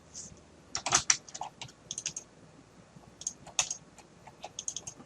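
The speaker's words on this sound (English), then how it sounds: "Double clicking on all of these." A computer mouse clicks in quick pairs while fonts and glyphs are selected on a computer, giving sharp, close, scattered double clicks separated by short quiet gaps.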